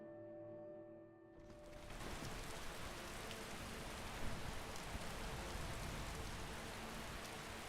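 Steady rain in the video game Skyrim sets in after a quieter opening second and then falls as a dense, even hiss at a constant loudness until the end, with no voices.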